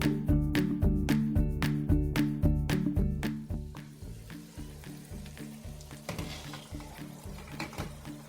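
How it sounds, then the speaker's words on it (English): Garlic spicy seafood mix cooking in a pan, a steady bubbling sizzle with rhythmic stirring scrapes at first, then a softer, even simmering hiss, close and fairly quiet. "So let's simmer this for about 10 minutes."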